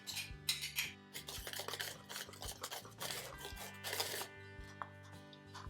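Melted gelatin is stirred into a cream cheese mixture in a bowl, making soft repeated scraping and swishing strokes over a faint steady background tone.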